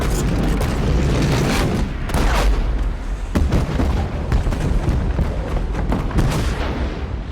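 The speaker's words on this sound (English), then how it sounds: "the beginning of that is the firing from the gun" Cannon on a sailing warship fire in a rapid, irregular barrage of heavy booms and sharp blasts that overlap and roll into one another, loud and close.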